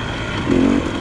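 A 2021 KTM 300 two-stroke dirt bike with about 100 hours and no maintenance, running rough. Its engine drones steadily up close, with a brief rise in pitch midway through the short burst.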